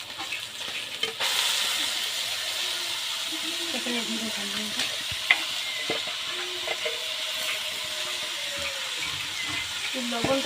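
Raw taro hits a hot pan and sizzles steadily, with hissing and stirring scrapes running through the whole stretch and occasional clinks, close to the listener.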